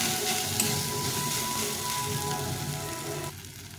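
Mashed potato frying in a pan for an eggplant-and-potato bharta, giving a steady, close hiss of sizzling oil that holds evenly and drops slightly in the final moments, with no talking.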